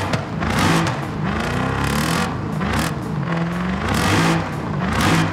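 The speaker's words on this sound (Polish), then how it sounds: "Jaki dźwięk zajebisty, to jest standardowy silnik." Standard car engine, a 5.4-litre unit, revving in the racing game Forza Horizon 5, rising and falling through mid revs in a loud, continuous roar with no talk.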